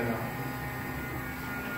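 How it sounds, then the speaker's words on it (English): A steady, loud mechanical whir with an electric hum from a heat gun used on a car bumper repair runs continuously, close by and unbroken throughout. "he's got a heat gun, which is much more powerful than a uh, hair dryer"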